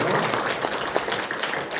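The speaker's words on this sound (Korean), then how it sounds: "박수로 우리 환영하겠습니다." A church congregation at a Sunday morning service applauds to welcome new members, a dense close burst of clapping that holds steady and then begins to thin.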